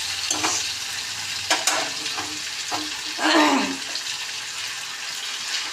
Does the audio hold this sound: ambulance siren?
no